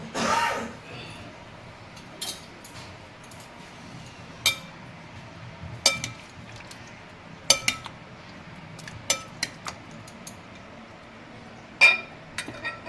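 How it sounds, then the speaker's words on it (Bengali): Spoon scraping and clinking against a pot while potato curry is stirred, a string of sharp metallic taps scattered irregularly over a quiet background, with a voice speaking now and then. "তরকারিটা দেখো আমি একটু নাড়িয়ে দেখাচ্ছি দেখো"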